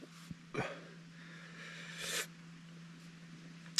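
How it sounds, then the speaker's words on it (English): A person hiccups a couple of times after eating hot, spicy food, giving short, quiet, abrupt gulps over a faint steady hum. "A little bit of a hiccup."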